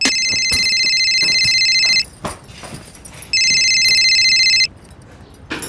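A telephone rings in two long electronic bursts separated by a pause, loud and close, with a few knocks and rustles between rings.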